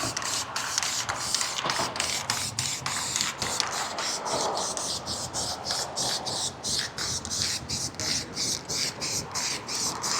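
Guide coat spray misted over a car body in a workshop, a hissing spray broken into rapid regular bursts, close and fairly loud, with faint talk.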